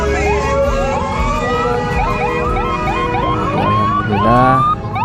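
A police siren wails in repeated rising and falling sweeps over a busy morning street scene crowded with motorbikes in Gorontalo, loud and close, with an engine rumble beneath and a brief surge near the end.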